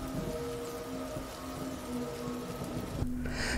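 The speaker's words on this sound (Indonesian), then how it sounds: "hujan semakin deras dan tak kunjung reda" Steady heavy rain hissing as a dense, even wash, faint and distant, with a low rumble and a brief shift near the end; no voices.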